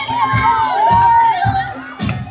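Spectators at a youth volleyball match cheer and shout in rhythmic bursts, a lively crowd chanting encouragement in several quick waves close by.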